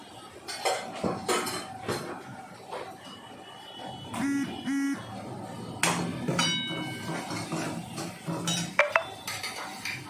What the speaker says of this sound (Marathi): चांगला मसाला तेलात हे करून घ्यायचा परतून घ्यायचं आहे तेलामध्ये